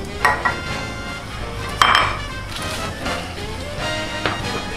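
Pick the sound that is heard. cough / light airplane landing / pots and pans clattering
pots and pans clattering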